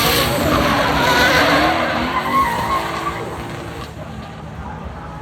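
A Nissan 300ZX Z32 drift car with a built twin-turbo UZ V8 screeches its tires in a loud, sustained skid, engine roaring close by before the squeal gradually fades.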